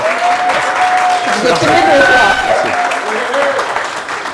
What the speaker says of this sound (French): des applaudissements très très nourris pour notre cher invité